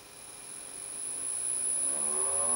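A single-phase motor in a solar tracker, running with mismatched phases, hums steadily, rising gradually in pitch and loudness, a thin whine with a faint buzzing vibration underneath.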